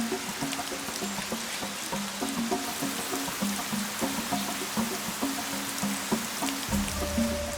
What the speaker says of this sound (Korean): 비가 내리기 시작하면